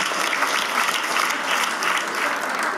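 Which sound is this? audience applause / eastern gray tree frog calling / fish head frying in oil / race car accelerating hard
audience applause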